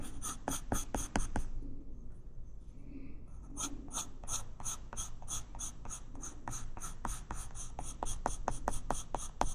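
Pencil strokes scratch across black paper while drawing swan feathers, a steady run of quick, rhythmic scraping taps, close and fairly loud, with a short lighter pause near the middle.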